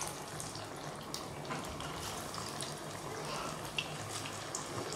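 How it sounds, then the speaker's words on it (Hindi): Poha donuts sizzle in hot oil in a kadai, a steady, dense crackling hiss with small pops scattered throughout, fairly close and with no voices. "कढ़ाई अब जो गर्म हो गई है तो इसमें हम एक एक करके डोनट को डाल देंगे"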